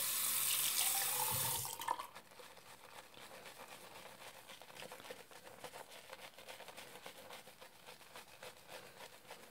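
Tap water runs loudly for about two seconds to wet a Wilkinson Sword shaving soap, then stops, leaving quiet, rhythmic rubbing and scratching sounds.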